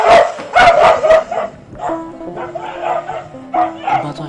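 A dog barking, a few close, loud yapping barks in quick bursts at the start and again near the end, with a lower whine in between.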